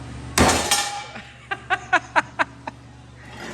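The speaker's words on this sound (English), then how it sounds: "This is stainless downpipe versus hammer." A hammer whacks a 4-inch stainless steel downpipe: one heavy ringing blow, then a quick run of six sharp metallic clanks that ring briefly, close and loud, with a faint chuckle under the first hit.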